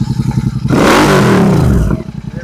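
Royal Enfield Continental GT 650 twin-cylinder engine ticking over, then blipped hard toward 5000 rpm in a loud rising roar that holds for about a second before dropping back to a steady idle.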